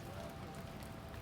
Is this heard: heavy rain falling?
yes